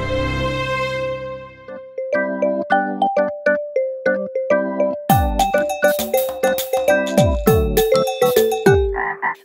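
Cartoon frogs croak in a regular, bouncing rhythm for a children's song, each croak loud and close, layered with bright chiming musical notes.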